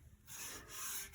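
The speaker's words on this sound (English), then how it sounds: "this is a 2500 grit sanding pad, and I'm just going to gingerly go over top this guitar body" A 2500 grit sanding pad is rubbed gently over the wooden body of an AKLOT Stryde electric guitar kit, giving a soft, steady abrasive hiss that starts after a brief quiet moment and continues in close, even strokes.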